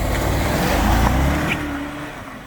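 AWD-to-RWD converted BMW 750i attempting a burnout, engine roaring loudly with a harsh broadband rush that swells and then eases off toward the end.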